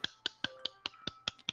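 Eight sharp, evenly spaced claps or snaps come through Fortnite voice chat, crisp and fairly faint, repeating in a quick steady rhythm with no talking over them.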